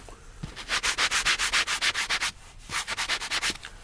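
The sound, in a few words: sanding a surface by hand, ASMR roleplay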